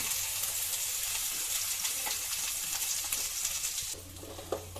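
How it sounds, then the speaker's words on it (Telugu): Ground gongura chutney frying lightly in a tempering of oil and spices, a dense, steady hiss of sizzling that drops slightly in level toward the end, with a faint clink. "గ్రైండ్ చేసుకున్న గోంగూర పచ్చడిని ఇందులోకి వేసుకొని లైట్ గా వేపుకుందామండి"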